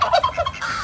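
Turkeys on a farm giving a quick burst of rapid, warbling gobbles at close range, loud and alone without any talking.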